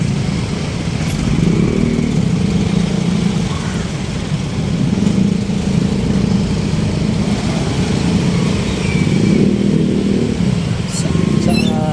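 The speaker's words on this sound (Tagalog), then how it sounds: "Sana maayos na rin itong traffic dito sa kanto Baysa" Heavy traffic of motorcycles and cars idles and revs at the Baesa corner intersection, a steady close rumble of engines with accelerating bikes and speech mixed in.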